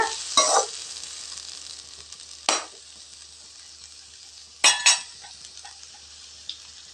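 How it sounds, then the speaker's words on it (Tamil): Chopped small tomatoes soften in a hot pan for a lentil dish, a soft continuous sizzle broken by a few sharp scrapes and clinks of a spoon stirring against the pan, with no talking. "தக்காளி வதங்கட்டுங்க."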